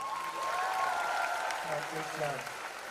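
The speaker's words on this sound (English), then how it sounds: "Huge round of applause for Karan Johar" Audience applause for Karan Johar at a student event, a continuous clapping wash with cheering and whoops rising above it, fairly soft overall.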